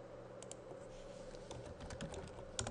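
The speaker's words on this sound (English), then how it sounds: "type this one out" Quiet keystrokes tap on a computer keyboard in a short, faint run of typing with no talk.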